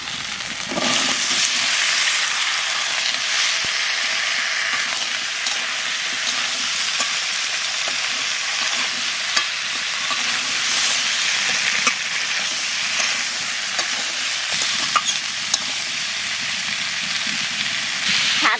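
Chopped squash frying in a hot pan with green chilli and cumin paste, a loud continuous sizzle with scraping stirs and occasional spatters close by, no voices.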